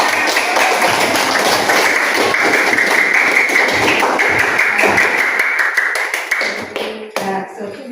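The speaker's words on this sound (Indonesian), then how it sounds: "Tepuk tangan untuk kita semua." Classroom of students clapping together in a school lesson, a loud, close, brisk patter of many hands that thins and trails off near the end.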